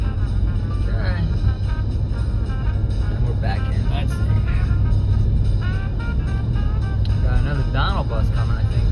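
A Disney resort bus draws closer along a roadway, a steady low engine rumble building under ongoing nearby conversation and crowd chatter.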